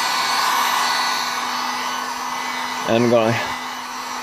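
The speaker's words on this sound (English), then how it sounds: "I'm just going to I'm going to use my heat gun." A heat gun blows steadily to dry fresh detailing paint, a broad continuous roar running throughout at close range, with someone speaking briefly near the end over the airflow.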